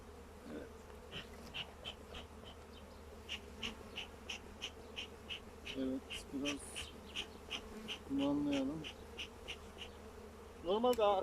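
Carniolan honey bees buzz steadily close by around a hive in a citrus grove, individual insects droning past in rising and falling whines over a low background hum.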